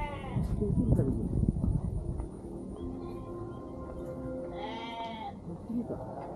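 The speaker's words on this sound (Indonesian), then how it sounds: "Wah ini ada kambing juga." Goats bleat near a reservoir construction site, one clear wavering bleat rising out of background rumble and talk from people nearby.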